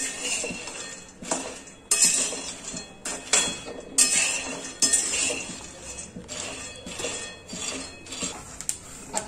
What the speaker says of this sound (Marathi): तर शेंगदाणे मी भाजून घेते आधी